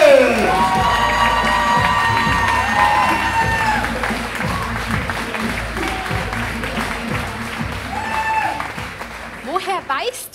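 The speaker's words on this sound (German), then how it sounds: "Holt sie raus mit einem donnernden Applaus, Therese Reichel!" A poetry slam crowd at a youth competition in Bavaria bursts into loud applause with cheering and whoops that ring out over the hall, while voices call and shout among the clapping.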